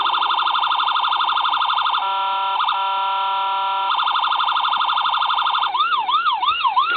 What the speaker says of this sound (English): The button on the passenger side will be your siren.